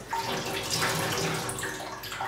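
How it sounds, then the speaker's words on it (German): Water runs and splashes out of a rinsed shisha bowl packed with wet tobacco, a close continuous pour with no talk. "Lasst eben so ein bisschen Wasser rauslaufen, bis der Tabak dann irgendwann von allein eigentlich in eure Hand fällt."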